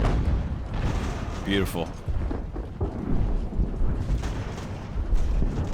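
Cannon volleys from fortified artillery in the naval-era strategy game Ultimate Admiral, deep rumbling booms rolling across a land battlefield while someone speaks over them.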